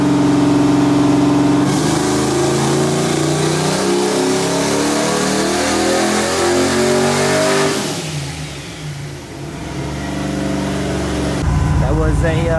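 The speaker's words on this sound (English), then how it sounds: "That was a 427 horsepower pull" An LS V8 swapped into a Mazda RX-7 roars loud and steady through a dyno pull, its pitch climbing as it revs, then dropping off before rising again near the end.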